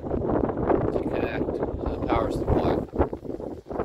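Strong wind buffets the microphone with constant rumbling gusts outdoors at a garden railroad, while a voice speaks faintly underneath.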